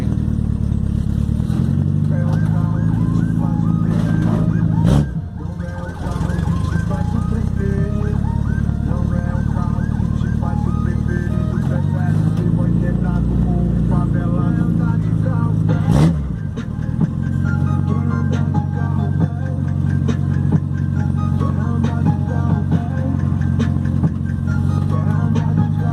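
A black VW Passat with a 4x1 straight-pipe exhaust revs hard and close, its loud raspy drone rising and falling through several throttle blips, with brief drops between pulls and some voices underneath.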